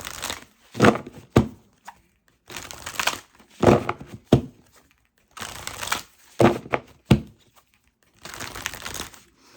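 Animal oracle cards shuffled by hand in four separate bursts of crisp, riffling card noise, each a second or so long with short pauses between, close and fairly loud with no talking.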